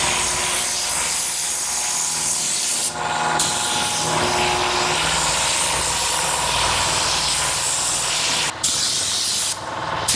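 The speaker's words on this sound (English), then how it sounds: "stir it up nice and we'll spray it" A paint spray gun sprays primer on a 1953 GMC truck in a home garage, hissing in long, steady bursts close by, briefly pausing twice, with a constant airy spray noise throughout.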